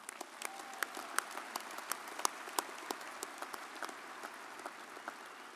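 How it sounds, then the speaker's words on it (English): Applause from a commencement audience for honors program graduates, a quiet, distant wash of clapping with sharp individual claps standing out, steady throughout. "Please give our honors program graduates a round of applause."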